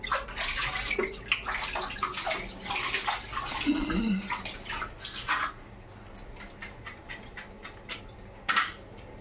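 Water splashing and sloshing during a small boy's bath at home, busy and close through the first half, then quieter drips and a brief splash near the end, with a voice speaking at times.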